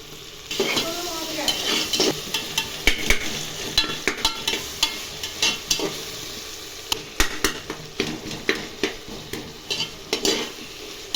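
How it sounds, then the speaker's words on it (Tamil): Tomatoes being stirred in a frying pan while preparing mushroom biryani, with a steady sizzle beneath repeated close scraping and clinking of a spoon against the pan in an irregular rhythm. "தக்காளி சேர்த்து நல்லா கலந்து விட்டுக்கலாம்"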